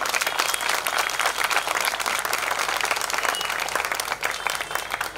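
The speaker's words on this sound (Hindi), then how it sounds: "एक बार मैडम के लिए ताली होना चाहिए" A crowd applauds steadily, dense clapping at a constant level throughout with no voices.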